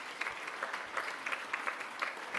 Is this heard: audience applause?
yes